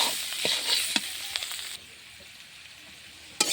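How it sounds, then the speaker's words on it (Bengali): Sliced teasel gourd (kakrol) frying in a pan, a bright sizzle with a few scraping stirs, then the sizzle drops to a quieter hiss before a final clatter. "আর একটু লাড়াচাড়া করলে ভাজাটা হয়ে যাবে।"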